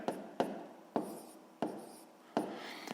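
A pen writes numbers on paper during a sixth-grade maths exercise: five sharp strokes, each fading into a short scratch, spaced irregularly and heard close and alone.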